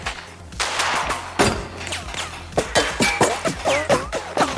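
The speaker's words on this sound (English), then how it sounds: "Whoa, my hand just turned into a cannon." Rapid gunfire in the RoboCop: Rogue City video game, including the character's hand-mounted arm cannon, crackles in dense, loud bursts with sharp repeated shots and metallic impacts throughout.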